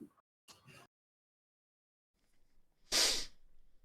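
A single loud, sharp sneeze bursts out near the microphone after a quiet stretch, preceded by a faint breath and a couple of short bits of talk earlier.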